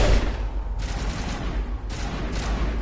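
Rapid bursts of video-game gunfire in Mass Effect: loud, close volleys of shots that come in several clusters over a constant rumbling backdrop.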